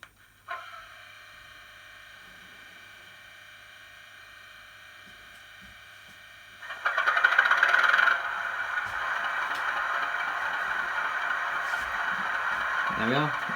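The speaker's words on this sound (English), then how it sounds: "let's put her engine on and let's see what she sounds like." A Bachmann BR large-logo Class 37 model locomotive with DCC sound starts up: a quiet hum first, then a louder diesel engine note that settles into a steady idle. There is no talk over it.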